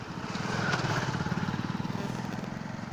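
A scooter engine on a road revs up in a sharp rising burst, then settles into a fast, throbbing putter close by, loud and continuous with no clear talk over it.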